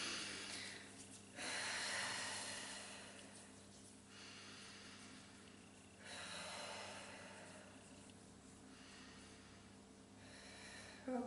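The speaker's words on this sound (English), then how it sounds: "let's take a few deep breaths" Slow, deep breathing close to the microphone, with long inhales and exhales in a relaxed rhythm, about three full breath cycles, soft and breathy over a quiet background.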